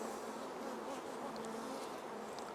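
Honey bees at a hive buzz in a dense, continuous drone that holds steady and close for the whole stretch, with nothing else heard.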